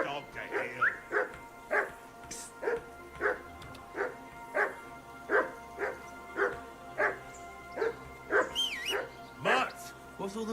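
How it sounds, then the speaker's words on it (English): A dog in the medieval video game Kingdom Come: Deliverance II barks repeatedly at a steady rhythm, about a dozen close, clear woofs with a whine or two, over a low background hum. "Henry, call that dog to heel."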